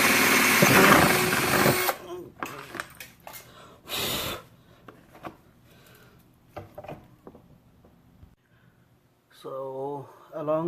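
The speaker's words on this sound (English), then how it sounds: "So along with the main hole, I'm drilling a small hole as well." A small hole is drilled for a zip tie during a daytime running light install on a 1998–2002 Honda Accord headlight area, with a short loud whirring burst at the start and brief tool bursts among quiet handling noises.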